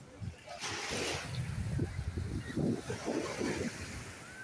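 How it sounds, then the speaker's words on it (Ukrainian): Surf rolls and washes steadily onto the shore of the sea at Odesa, with wind rumbling in the microphone and faint voices mixed in underneath. "Таку волну жене."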